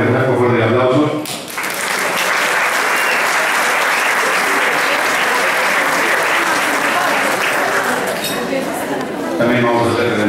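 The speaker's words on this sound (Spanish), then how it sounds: "por favor, de aplauso" Audience applause at a 50th-anniversary celebration with speeches, a sustained loud ovation of dense clapping that fills the scene for most of its length, with voices briefly heard at the start and end.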